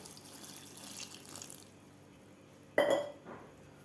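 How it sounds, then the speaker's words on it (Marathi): A quiet running-water hiss fades out, then a short splash and gurgle as cold water is poured into a bowl of soaked soya chunks, fairly close. "यामध्ये आपल्याला थंड पाणी घालायचं आहे"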